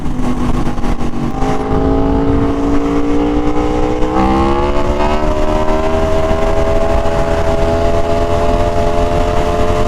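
An Aprilia RSV4 Factory sport motorcycle pulls hard in third gear, its engine note climbing steadily in pitch as it accelerates, loud and close over strong wind rush, with a brief dip near the midpoint before the rise resumes.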